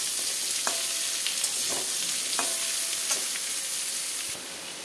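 Cut pointed gourd (potol) sizzles steadily in a hot pan, a constant bright frying hiss broken by a few sharp spatula scrapes and taps, close and alone with no talking.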